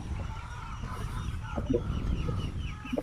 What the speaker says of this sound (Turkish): Bur bak burada bir sürü tavuk varmış